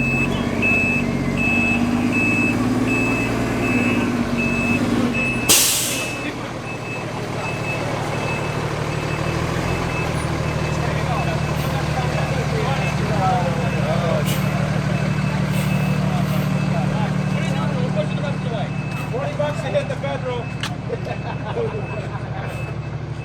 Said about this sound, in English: we're going to push the fire truck back into the building